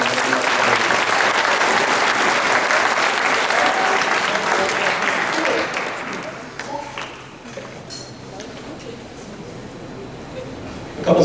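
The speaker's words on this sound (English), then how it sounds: "So please give him a round of applause or a power clap." Loud, dense applause fills a hall at a high school track team awards night for several seconds, then thins and fades to scattered claps and quieter room noise before a brief burst at the end.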